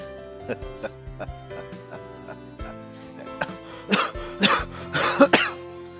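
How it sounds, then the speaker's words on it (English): A man coughs hard after laughing, a cluster of rough, loud coughs bursting out near the end over a faint game-music background. "I've become the old man laughing until he has to cough out his lungs"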